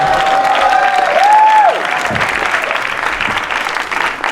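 An audience at the Pandava Sena 25th anniversary event claps and cheers for Swami Sutapa's arrival, a loud, dense wash of applause. A sustained tone sounds over it at the start before the clapping carries on alone.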